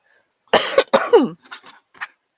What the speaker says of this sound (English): I don't know where this cough has come from.